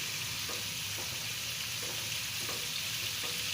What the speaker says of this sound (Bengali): তাওয়ার চিকেনটা করার জন্য ভালোভাবে মাংসগুলোকে ভেজে নিতে হবে।